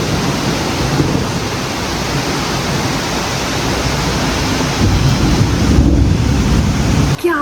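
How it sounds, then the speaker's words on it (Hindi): Heavy monsoon-style rain pours down in a dense, constant hiss that stays loud throughout and thickens slightly near the end, with no one speaking over it. "इतनी तेज़ बारिश हो रही है ना अभी"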